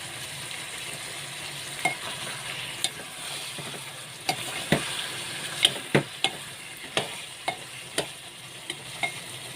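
Chicken pieces frying with onion and chilli powder in a pan on low heat, a soft continuous sizzle punctuated by about a dozen sharp scraping clicks as a spoon stirs, close and fairly quiet, no speech.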